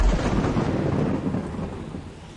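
Thunder crashes in a broad, loud rumble from a lightning strike during a storm, with rain hissing underneath; the roll stays heavy before easing slightly toward the end, no voices.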